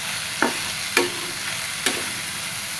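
Food seasoned with turmeric stirred and fried in a pan: a low steady sizzle broken by three distinct spoon scrapes and taps on the pan, close up with no talking.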